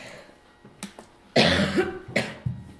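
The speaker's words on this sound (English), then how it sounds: "I felt so bad about coughing throughout." A few short, sharp coughs close by, two quick ones early, then a louder harsh burst and another cough near the end.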